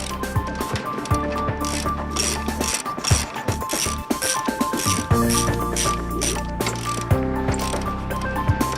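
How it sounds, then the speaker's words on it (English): Socket wrench ratcheting as it loosens 18mm clamping bolts holding a shaft, with a steady run of clicks and metallic clinks that pause and restart, heard close up. "Use an 18mm socket and wrench and remove the 4 clamping bolts that hold the shaft in position."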